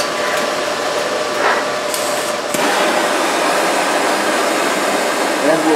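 A torch heats a piece of stainless steel to red hot in a metal sculpture workshop, giving a loud, steady hiss and roar that runs without a break from start to finish.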